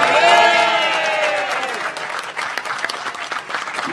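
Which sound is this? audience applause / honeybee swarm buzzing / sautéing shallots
audience applause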